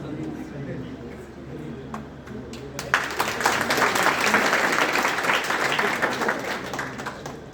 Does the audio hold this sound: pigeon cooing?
no